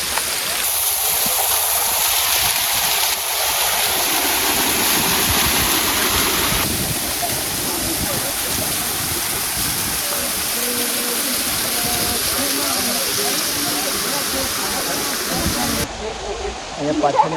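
The Khuniya Mahadev waterfall at Pavagadh pours in a constant, loud broadband roar of cold water crashing down, heard close by with people's voices mixed faintly into the rush.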